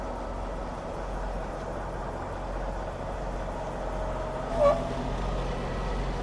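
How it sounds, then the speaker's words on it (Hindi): A 2034-model Volvo truck idles with a steady low diesel rumble while reversing, a brief air hiss or squeal rising near the end, heard from close by. "ये वॉल्वो बैक हो रहा है"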